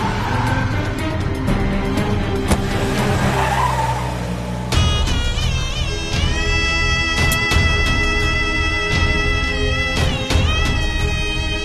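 A car pulls away with its tires skidding and squealing, a loud rush of engine and road noise over a steady musical score, in a Tamil TV serial scene.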